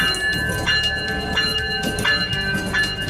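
A Bangladeshi freight train pulls into Tripura, a steady rumble of rolling wagons with repeated rhythmic clanks and a sustained high tonal ring, close and continuous with no voices.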